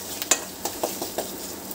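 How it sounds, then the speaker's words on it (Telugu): Chopped ginger sizzles in a hot pan for chicken curry, a steady soft frying hiss broken by several spoon stirs and scrapes against the pan. "ఈ అల్లం కాస్త మనకి స్మెల్ పోయే వరకు మనం కుక్ చేసుకోవాలి"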